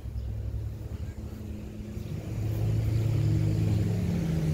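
Ram 3500 heavy duty pickup with a Cummins diesel engine idling nearby, a low steady rumble that swells slightly in level partway through, with a faint voice briefly audible.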